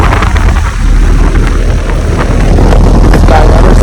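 An outdoor air conditioner with an Emerson Copeland scroll compressor, a 2017 unit at a vineyard, runs with a loud, steady fan whoosh and low mechanical drone close by, with no break in the sound.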